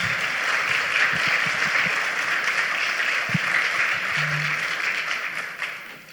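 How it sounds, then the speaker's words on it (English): An audience at a talk on the American Dream and populism gives a round of applause, dense steady clapping sustained for several seconds before tapering slightly at the end. "how about another round of applause for Dr. Michael Strain?"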